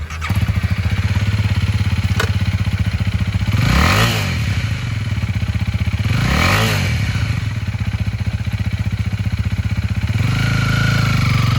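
A used 2021 Honda Rebel 300 lightweight cruiser motorcycle engine runs steadily close by, rising in two brief revs before settling back to a deeper idle at the end.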